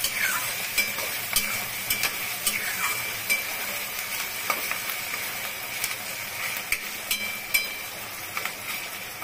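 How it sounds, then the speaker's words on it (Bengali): Onions frying in a pan for egg bhurji, a steady bright sizzle with scattered crackles and pops, close and continuous with no talking. "পেঁয়াজটা প্রায় ভাজা হয়ে গেছে, আরো ভাজতে লাগবে।"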